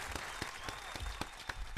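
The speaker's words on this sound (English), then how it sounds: "Round of applause for that, man." Studio audience applause during a hip-hop interview show, a short burst of scattered clapping with distinct sharp claps standing out over a low background, moderately quiet and steady throughout.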